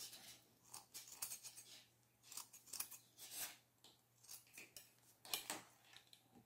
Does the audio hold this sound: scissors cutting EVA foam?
yes